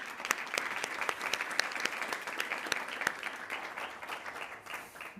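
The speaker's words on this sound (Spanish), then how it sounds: "yo os pido un aplauso y hasta la próxima" A small audience applauds at the close of a round-table discussion on automation and debt management, with distinct crisp claps over a steady patter, fairly quiet and slowly tapering off.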